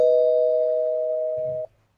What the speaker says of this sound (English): I'm just gonna spoiler right here, but I'll ring the bell.